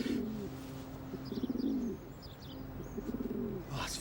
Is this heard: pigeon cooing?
yes